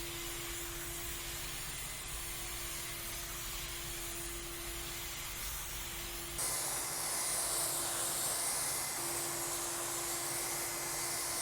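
A steady hiss of a spray gun spraying dip onto a car runs continuously, growing brighter and louder partway through, with a faint tonal hum underneath.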